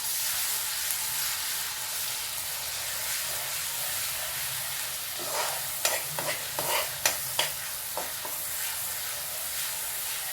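Coriander leaves and two chilies sauté in a pan, a steady sizzle at first, then a series of sharp stirring scrapes and clatters toward the end, close and moderately loud with no talking.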